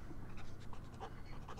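A dog pants in The Sims 4, a quick, soft rhythmic huffing over a steady low background hum, brief and faint.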